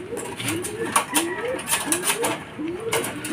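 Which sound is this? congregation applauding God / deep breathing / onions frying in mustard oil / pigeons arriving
pigeons arriving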